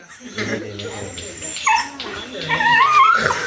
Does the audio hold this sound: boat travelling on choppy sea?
no